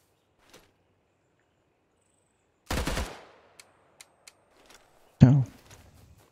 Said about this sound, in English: Let's go towards the gunfire.